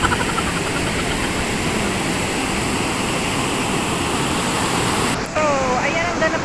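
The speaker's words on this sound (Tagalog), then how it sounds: "Ang laki ng alon, mga momsies." Large ocean waves break on the shore at Baler, Aurora, a constant heavy roar of surf, loud and close, with a brief dip and a faint voice near the end.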